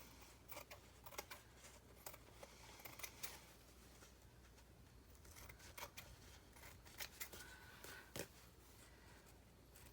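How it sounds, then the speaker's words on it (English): Scissors snipping around a paper napkin, a quiet close run of small crisp clicks and cuts in an irregular rhythm, with no other sound. "And then I just take my scissors,"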